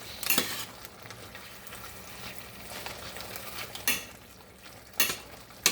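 Barbecue sauce for sloppy joes stirred in a pan on the stove, a utensil scraping and clinking against the pan in a few sharp strokes over a steady low sizzle, no talking.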